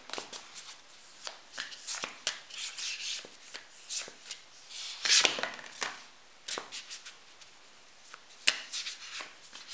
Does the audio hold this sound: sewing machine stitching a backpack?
no